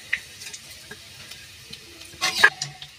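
Black cumin and spices frying in a pan for aloo paratha, soft crackling and sizzling ticks scattered over a quiet background, with a louder burst of spluttering near the end.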